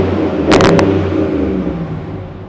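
A truck engine revs sharply through a Rough Country exhaust, one loud burst rising quickly and then falling back to a deep idle rumble, recorded close up.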